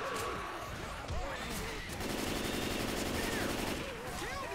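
Gunfire in Left 4 Dead 2 during a zombie survival round, dense bursts of automatic shots and booming impacts as the horde floods in, with players' voices talking over the chaos.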